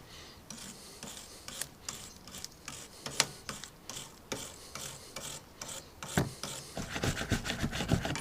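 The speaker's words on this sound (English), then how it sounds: "So I'm just going to get a soft brush now and give that a wipe down." A soft brush scrubs over brake parts in a garage, quick rasping strokes in irregular bursts, close and fairly quiet, growing busier toward the end.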